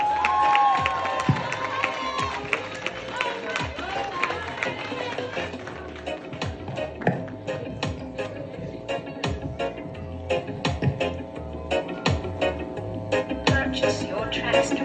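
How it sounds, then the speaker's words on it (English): A high school graduation crowd applauds and cheers, scattered clapping and shouts rising and thinning over background murmur. "Please make them feel welcome and give them a round of applause."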